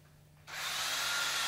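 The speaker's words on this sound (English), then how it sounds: "If you pre-drill the hole, there's less chance of splitting the wood." A power drill whirs up and pre-drills a hole steadily into wood for a chicken coop for about a second, close and fairly loud, after a brief quiet start.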